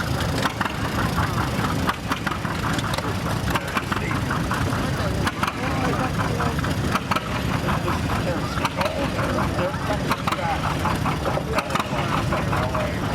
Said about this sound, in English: Terry mentioned that this is the last year for the unstyled Allis Chalmers WC.